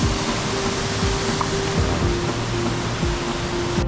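A mountain valley stream in Baemsagol valley on Jirisan rushes loudly and steadily nearby, a constant broadband roar of flowing water with no voices.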